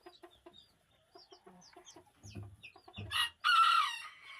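A white Malay hen and a white rooster kept together: a run of soft clucks builds toward a loud, close crow near the end.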